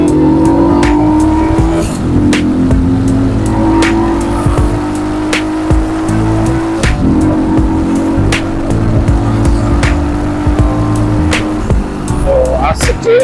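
A Viar Cross X 150 motorcycle fitted with a replacement primary gear accelerates hard in fourth gear, its engine drone rising in pitch and holding loud and close, with wind rush and light knocks over it.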